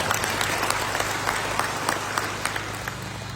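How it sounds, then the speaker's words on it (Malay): Sustained applause from an audience at a Malaysian political speech on Perak state politics, a steady dense wash of clapping with a low hum underneath, filling the whole stretch without a break. "Satu tepukan gemuruh kepada mereka."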